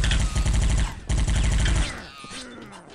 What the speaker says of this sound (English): you gotta reload the submachine gun anyway, so you do run out of ammo